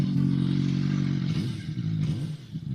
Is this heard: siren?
no